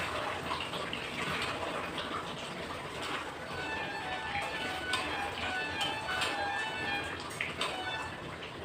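Water runs into a cooking pot of mutton with a continuous splashing gush that holds steady throughout, moderately close.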